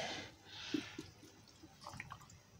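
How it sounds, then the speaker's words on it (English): Water drips and trickles from the drain of a mini washing machine in a motorhome: soft, irregular close drops and a faint gurgle after a brief gush at the start, quiet overall. "It's just running, dripping out now."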